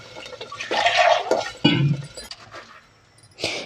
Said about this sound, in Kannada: ಇವಾಗ ಸಾಂಬಾರಿಗೆ ಎಷ್ಟು ನೀರು ಬೇಕು ನೋಡಿಬಿಟ್ಟು ನೀರನ್ನ ಸೇರಿಸ್ಬೇಕು.